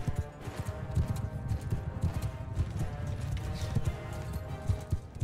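Horse galloping in the game Mount & Blade 2 Bannerlord, the mount wounded with arrows, with steady rapid clip-clop hoofbeats running continuously and loud amid battle noise.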